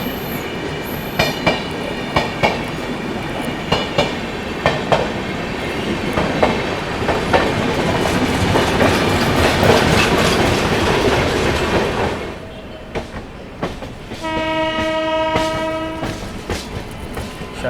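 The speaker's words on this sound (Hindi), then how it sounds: "अच्छा, लखनऊ मेल जा रही है, न्यू दिल्ली लखनऊ मेल" The New Delhi–Lucknow Mail passes close by, its wheels beating a rhythmic clickety-clack over a loud rolling rumble. Near the end the rumble fades and a sustained train horn sounds.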